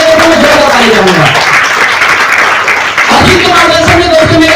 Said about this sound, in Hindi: मैं जोरदार ताली बजाऊंगा।